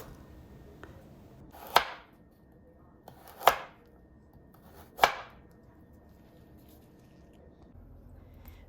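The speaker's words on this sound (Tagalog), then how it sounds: "Finely chop garlic, chop onions, chop spring onions, and some carrots." A knife chops vegetables such as garlic, onions, spring onions and carrots on a board, heard as three sharp, separate strikes a second or so apart against a quiet background, with no speech.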